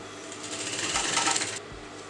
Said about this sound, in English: So I'm going to make three beautiful pleats like this and sew it at the end